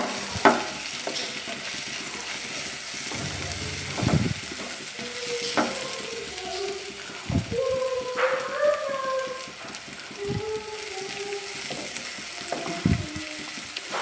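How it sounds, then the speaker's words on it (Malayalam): Ginger and garlic frying with onions in a pan, a soft steady sizzle with occasional stirring scrapes, close and moderate, while a dog howls faintly in the background. "ഇനി ഇത് ഇഞ്ചി വെളുത്തുള്ളി ഉള്ളിലേക്ക് ഇട്ട് കൊടുക്കാം."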